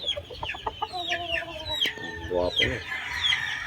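A Boston crossed with Golden Boy gamecock rooster clucking in repeated short calls close by, with other fowl calling around it and someone speaking briefly over the birds.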